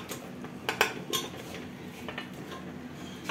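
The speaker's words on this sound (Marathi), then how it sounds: "पाय आपण भांड्यामध्ये टाकून घेतलेले आहेत या मिश्रणामध्ये" Goat trotters go into a metal pot of ground onion-coconut paste, giving sharp clanks and clinks of pieces and a utensil against the vessel. A few separate knocks sound close by, with a quieter scrape between them.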